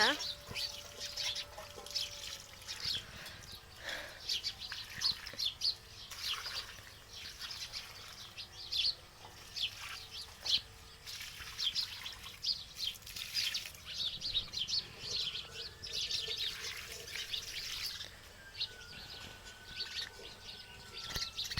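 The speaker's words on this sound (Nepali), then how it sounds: "बिहान बिहानै चरा हाम्रो घरमा आउँछन् अनि चिरबिर बोलिरहेछन्" Birds chirp and twitter on and off, fairly close, while a person talks quietly and water trickles in the background.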